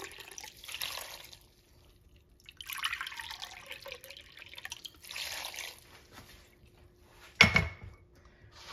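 Water is poured into a cooking pot for dal in a home kitchen, with a few short faint splashing bursts separated by quiet gaps, then one sharper louder splash near the end.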